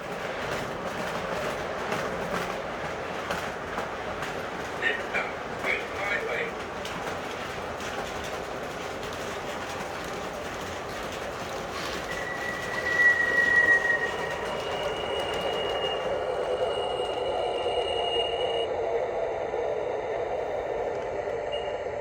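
An MTH R40 subway model train runs on its track, a steady low rolling rumble with faint clicks and a thin high squeal rising partway through, heard alone without talk.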